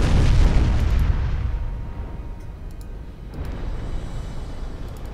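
Heavy naval gunfire from the battleship New Mexico in the Ultimate Admiral Dreadnoughts naval game, a loud deep boom at the start rolling off into a long low rumble, with a second fainter swell later.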